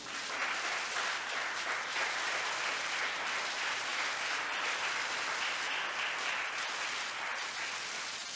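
A church congregation applauds Jesus in sustained, even clapping that fills the room at moderate distance, a dense wash of many hands with no speech over it.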